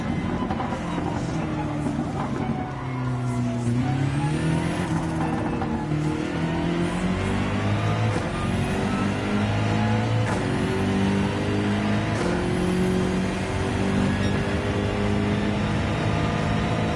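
A BMW race car laps a circuit in the Gran Turismo 7 racing game, its engine droning loudly and continuously with revs climbing and dropping through gear changes and occasional faint tire squeal.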